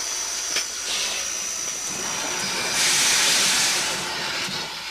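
A steam locomotive hissing steam at a rail siding, a steady loud hiss that swells partway through with faint clanks underneath, nearby and without talking.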